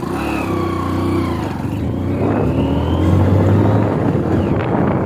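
A car engine hums and revs during a driving lesson with the clutch eased out, a loud continuous drone with wavering pitch that rises and falls, close by with road noise underneath.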